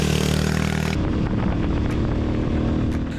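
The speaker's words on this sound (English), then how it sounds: "Both bikes have the same engine, slightly different sound, not much of a difference, but this one is the bassier sounding motorcycle." A Harley-Davidson X440 motorcycle engine runs steadily and loudly throughout, a deep, bassy drone with a sustained rumble and a slight shift in tone about a second in, no voices present.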